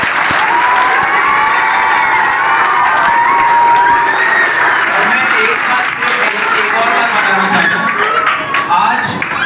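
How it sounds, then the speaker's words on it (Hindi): Loud, sustained applause from an audience at a coaching-centre event, with scattered cheers and excited shouts rising within the steady clapping throughout. "एक बार जोरदार तालियां बजाओ।"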